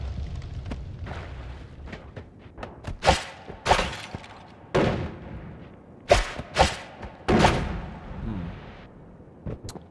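Explosions in the game Noita, a series of sharp booms and rumbling blasts, some close and loud, others duller, coming in irregular bursts with short gaps between them.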